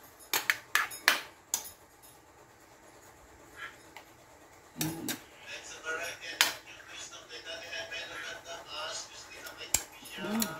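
A lid clatters onto a cooking pot of chicken afritada, a few sharp metallic clanks standing out from soft kitchen handling noises, with quiet talk nearby.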